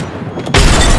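A thrown grenade in the shooter game Apex Legends detonates with a sudden loud boom partway through, a sharp broadband blast that lingers as a rumbling tail, preceded by quieter game ambience.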